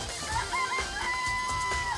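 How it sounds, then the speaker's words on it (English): Chickens cluck in a coop in the video game Danganronpa: Trigger Happy Havoc, with a run of wavering, chirpy calls that sit close and fairly steady over a low game background. "Remember there were some chickens in a chicken coop."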